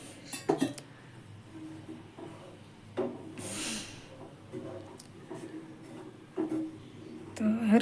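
A spoon stirring and scraping in a pot of date milk, with soft irregular rubs and a few light clinks against the metal, close and moderately quiet.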